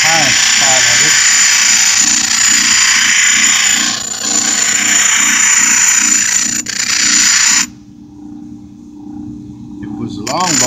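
A power tool grinds down the screwdriver-slot head of an odd, obsolete bolt, a close, steady high buzzing whine that cuts off sharply near the end, with a person talking underneath.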